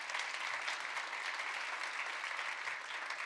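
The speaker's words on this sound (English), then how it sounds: "Can we please give another round of applause to Dr. Brennan Case?" Sustained audience applause fills a lecture hall after a talk, a dense, even wash of clapping from many hands throughout, with no voices over it.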